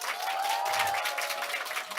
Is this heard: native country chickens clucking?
no